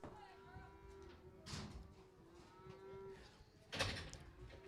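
A cow moos at a livestock auction at a stockyard in the Ozarks, its long low calls sounding near and clear twice over a steady murmur of the sale ring.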